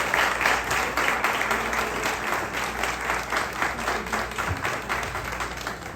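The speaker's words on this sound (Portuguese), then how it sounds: "Salve de palmas, gente." Audience at a birthday celebration dance clapping and applauding, a dense, loud, steady wash of applause lasting several seconds.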